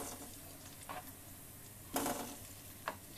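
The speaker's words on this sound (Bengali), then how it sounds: "এদিকে আমি পেঁয়াজ, রসুন, একটু আদা সব কিছু দিয়ে নিয়েছি, কাঁচামরিচ ভেজে নিচ্ছি।" Green chillies frying with onion, garlic and ginger produce a soft continuous sizzle, broken by a few spatula clicks and scrapes against the pan. Nobody speaks.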